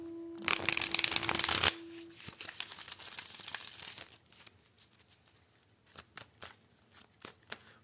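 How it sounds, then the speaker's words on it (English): A tarot deck is shuffled by hand in a quiet room: a dense, crisp burst of riffling, then softer shuffling and a series of separate light card taps and slaps. "Shuffle these cards,"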